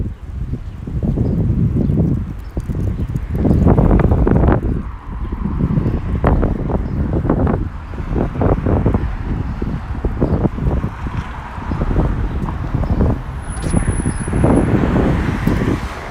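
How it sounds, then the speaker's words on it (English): Strong, gusty wind buffets an outdoor microphone in Washington, D.C., a continuous low roar that surges and drops in waves with no voices heard. "God, the gusts here are crazy."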